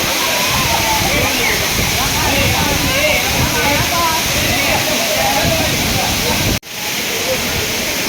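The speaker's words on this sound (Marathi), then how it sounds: "धबधबा किती फोर्सने पाणी पडते वरून" Nhavankond waterfall at Talavade in Devgad taluka pours down with force in a loud, steady, close roar of rushing water that drops out abruptly near the end before resuming.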